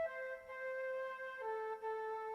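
A keyboard flute voice played an octave down holds soft, sustained tones that shift once to a lower note, quiet and clean with no talking.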